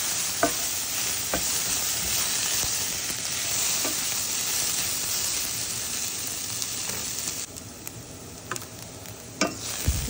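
Sliced onions with turmeric cooking in a covered pan, a steady close sizzle and hiss of frying with occasional soft clinks and stirring sounds, no voices.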